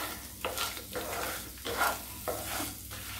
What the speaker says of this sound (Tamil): கொஞ்சம் எண்ணெய் ஊற்றி நம்ம எல்லாத்தையும் வதக்கிடுறோம்.